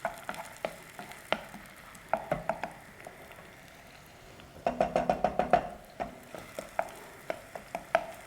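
Onions sautéing in a pan for pastırmalı kuru fasulye, a light sizzle broken by clusters of sharp knocks and scrapes as a utensil stirs against the pan.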